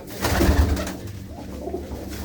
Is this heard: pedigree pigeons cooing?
yes